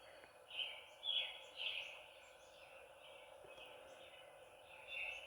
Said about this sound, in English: You can hear the birds singing